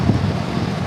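Gusty wind buffets the microphone in a constant, loud rumble with no voices.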